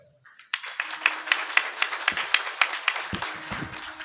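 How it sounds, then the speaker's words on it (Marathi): An audience at a Shiv kirtan breaks into clapping, starting after a brief pause and settling into a loose, fairly regular rhythm of sharp claps, moderately loud, with a few thumps near the end. "बसलेले मंडळी सगळेजण एकदा टाळ्या वाजवा महाराज"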